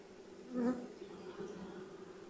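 A swarm of tens of thousands of bees hums steadily and close, the buzz swelling briefly louder near the start before settling into an even drone.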